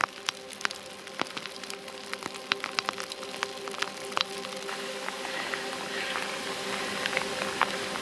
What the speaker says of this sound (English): Full on hailstorm.